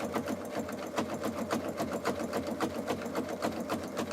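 Sewing machine stitching a jelly roll fabric rug with the bobbin thread running low: a rapid, even mechanical chatter of stitches, close and continuous throughout.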